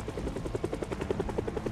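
Helicopter circling overhead in the video game Project Zomboid, a rapid, even rotor thumping that pulses steadily throughout at moderate loudness, with nothing else heard.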